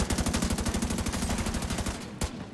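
Rapid automatic gunfire from The Division 2 skirmish match, a loud steady burst of evenly spaced shots that slows and thins near the end, followed by one last sharp shot, with no talking.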